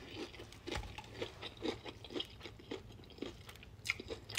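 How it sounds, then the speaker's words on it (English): Someone chews hard-fried food with crisp, rhythmic crunches at about two per second, close and quiet against a low background hum, with no talking. "Y'all heard the crunch."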